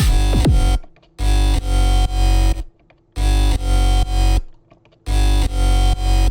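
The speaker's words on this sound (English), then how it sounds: "it's a phasor array I made a long time ago" Homemade phaser-array synth patch with a sweeping phaser on sustained chords, loud and dense, in three bursts separated by near-silent gaps, with a falling pitch sweep at the start.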